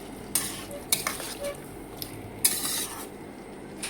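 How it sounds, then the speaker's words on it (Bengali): Fried chicken being stirred with spices in a pan, repeated scraping and clinking of a spoon against metal over a soft continuous sizzle, close and uneven in rhythm; no talk. "এখন আমি সেই ফ্রাই করে রাখা চিকেনগুলো এখানে দিয়ে দিলাম, দিয়ে এগুলো একটু ভালো করে নাড়াই দিব।"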